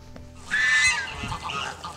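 Geese honking in a forest, a loud cluster of overlapping nasal honks from a nearby flock that swells in the middle and trails off into softer calls.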